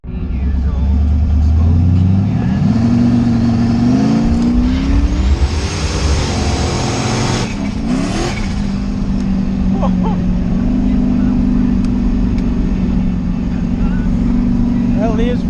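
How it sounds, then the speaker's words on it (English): Chevstang, a Mustang, doing a burnout then a launch: loud engine roar with tire spin, sweeping revs rising and falling, a brief drop then sustained hard acceleration, with voices faintly under it. "we're going to do a quick burnout and line it up and see if it hooks up or not"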